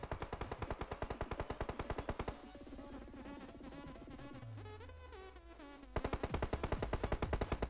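PUBG Mobile gunfire: rapid automatic bursts rattle hard and even at the start and again at the end, with quieter weapon and movement sounds in the gap between them and no voices.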